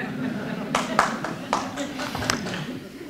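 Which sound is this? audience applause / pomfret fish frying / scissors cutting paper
audience applause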